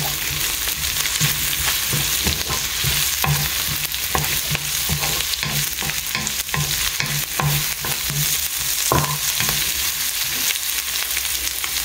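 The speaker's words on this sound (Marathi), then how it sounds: "हितून हांव घालता आमचे कोरिएंडर लिव्स ओके. आनी दिता बरो मिक्स" Coriander leaves stirred into a frying pan: a loud, steady sizzle with a rhythmic series of scraping spatula strokes running throughout.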